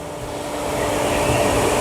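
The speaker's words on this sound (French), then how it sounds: "J'ai pas coupé l'aspirateur pour que tu entendes l'aspiration que j'ai au niveau de la table" A steady, loud broadband suction roar runs continuously without pause, a Felder AF22 woodworking dust extractor's whoosh of air at the table rising slightly in strength.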